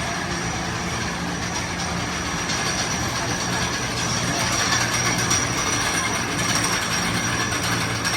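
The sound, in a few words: roller coaster train running on track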